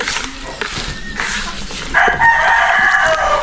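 Chickens cluck and a rooster crows loudly and close on a farm, the crowing call stretched out in the second half over a busy mix of fowl noise, with a voice speaking briefly.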